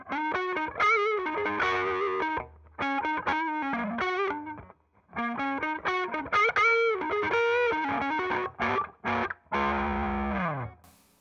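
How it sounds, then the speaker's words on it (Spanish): Electric guitar played through a Boss overdrive pedal, OD-3 or OS-2, strumming gritty distorted chords and short riffs with brief pauses, loud and up close with no talking. "Eso es lo que es un overdrive."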